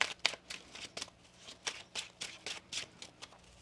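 Tarot cards are shuffled by hand in a quiet room, giving a run of soft, quick riffling bursts at a regular rhythm.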